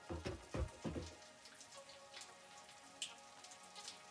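Quiet rain falling in the game Satisfactory, a soft steady patter with scattered drops, preceded by a few louder close taps in the first second.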